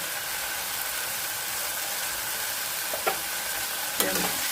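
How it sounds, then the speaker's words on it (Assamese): Fish pieces fry in a little oil, a steady broadband sizzle with faint clicks near the end. "মাছখিনি অলপ কিনা হৈ গ'ল, অকণ ভাজি লৈছোঁ।"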